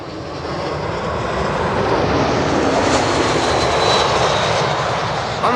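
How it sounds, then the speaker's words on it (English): An Emirates Boeing 777 passenger jet arriving at Schiphol, a loud sustained engine roar that swells steadily as the aircraft passes near. "Emirates, flight 145, 777 passenger arriving from Dubai."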